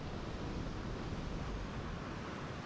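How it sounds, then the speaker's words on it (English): Wind moving through a broad canopy of silver birch trees, the leaves giving a steady, soft, dense rustle that stays even and unbroken throughout, with no voices present. "a sprawling canopy of silver birches, their leaves rustling softly"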